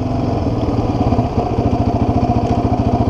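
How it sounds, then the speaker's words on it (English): A quad bike engine lugs in second gear from a standstill, a loud, close, low pulsing chug with a rapid uneven throb, strained and labouring without revving up, with no talking. "you're trying to take off in second at a standstill and you're lugging the bike"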